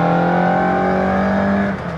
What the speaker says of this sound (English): That distinctive, rasping sound of a BDA